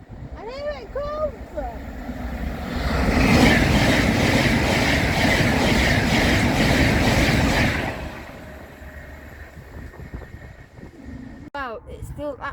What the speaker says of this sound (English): I wonder what the train's gonna be.